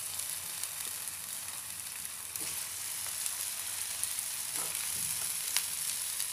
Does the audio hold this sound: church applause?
no